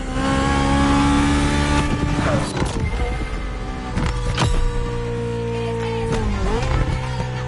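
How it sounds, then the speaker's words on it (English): Car engines rev and drone at a drag race in The Crew Motorfest, loud and close, with sustained harmonic engine tones shifting pitch through gear changes and bursts of revving, with no talk over them. "Warm up your engine and don't blink"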